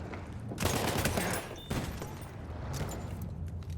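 Three-round burst-fire weapon shooting in Battlefield 1, with rapid clusters of loud gunshots and explosive booms over a continuous din of battlefield noise, with no talking.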